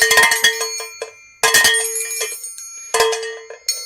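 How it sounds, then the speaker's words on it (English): A handheld bell is rung close by in three bright, loud bursts of rapid strikes, each ringing out and fading before the next. "Can you do one of the other bells?"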